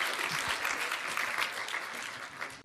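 Brief burst of audience applause for Mr. Blondel at a university rector candidates' debate, a dense, even patter of clapping from a seated crowd that continues throughout.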